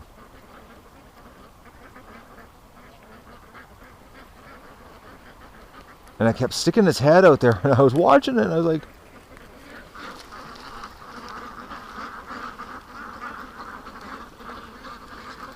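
Ducks burst into loud, agitated quacking on the water for a few seconds, interrupting someone talking nearby, then settle back behind his continuing speech.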